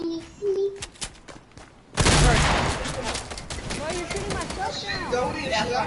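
Shotgun gunfire in a video game, a burst of dense, loud blasts kicking in partway through and continuing as a rapid barrage, with voices talking over it.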